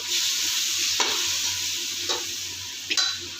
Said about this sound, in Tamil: வெங்காயம் போட்டுக்கலாம் ரொம்ப கரிஞ்சிடக்கூடாது